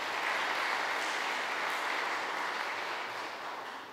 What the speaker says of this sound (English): that's applause more for her than for me